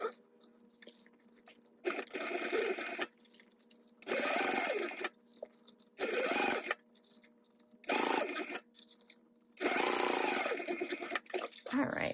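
A sewing machine topstitching fabric with an eighth-inch seam allowance while sewing a sling bag, running in several loud, steady bursts of a couple of seconds each, separated by quiet pauses.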